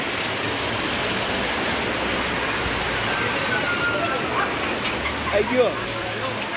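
Heavy night rain pours down in Lawa Sardargarh as a steady, loud broadband hiss, with a few faint voices and brief sounds under it toward the end.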